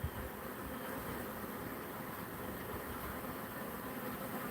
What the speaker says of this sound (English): these bees are from another hive, I believe.